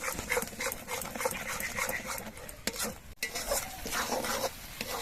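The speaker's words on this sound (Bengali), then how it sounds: "মশলাগুলো কষানোর সময় এর মধ্যে দিয়ে দিচ্ছি পরিমাণ মতো নুন আর অল্প করে একটুখানি চিনি এবার নেড়ে চেড়ে মিশিয়ে দেব" Spice masala with salt and sugar is stirred in a sizzling pan for a vegetarian paneer dish, giving continuous close scraping and frying crackle with no talking.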